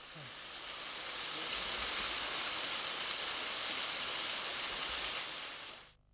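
A waterfall spilling into rock pools in the back garden of a converted watermill house, a steady loud rushing hiss that holds evenly before cutting off abruptly near the end.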